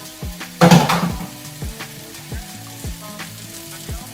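Mushrooms go into a hot pan and give a loud burst of sizzling frying, which then settles into a lighter crackle with a few clinks of utensils against the pan and no voices.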